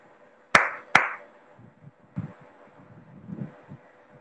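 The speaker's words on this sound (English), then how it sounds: "Yes, it's two claps" A teacher claps her hands twice in quick succession, two sharp, close claps in a quiet nursery classroom, followed by faint rustling and soft background noise.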